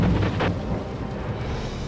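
A low rumble of thunder rolls through a heavy downpour in Chilliwack, Fraser Valley, British Columbia, steady and fairly loud, with rain hiss behind it.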